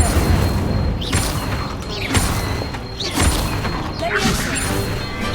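A fire spell cast in a Hogwarts video game, bursting out as a loud crash and whoosh amid dense, busy game sound effects, with more impacts and magical swells recurring across the clip.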